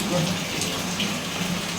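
Steady broadband wash of falling rain and running water, constant and moderately loud throughout, with no clear individual drops standing out.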